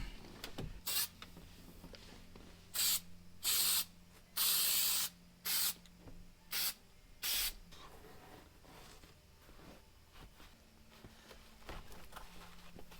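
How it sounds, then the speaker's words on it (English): Several sharp, loud hissing bursts from an automotive headliner adhesive spray can, applied inside a Ford Super Duty truck cab; short blasts of varying length, one longer, close to the microphone with quiet gaps between. "I got some automotive headliner spray."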